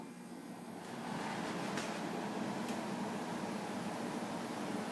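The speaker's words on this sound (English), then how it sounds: "So I'm just gonna turn it on to air conditioning mode." A DeLonghi Pinguino portable air conditioner starts up in cooling mode, its broad fan-and-compressor hiss swelling after a second and then holding steady, loud and close, with a couple of faint clicks.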